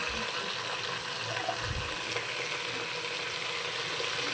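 Onions fry in a pan with mint and coriander being added, a steady, dense sizzle that holds evenly throughout with a brief low stirring thump in the middle.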